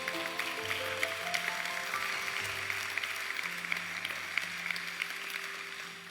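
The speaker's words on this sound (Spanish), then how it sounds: "Denle un aplauso a Jesucristo." Church congregation applauding in praise of Jesus Christ during a sermon, a fairly faint, even patter of many hands that carries on for several seconds while sustained organ or keyboard tones hold underneath.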